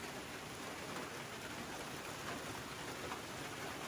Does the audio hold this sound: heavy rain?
yes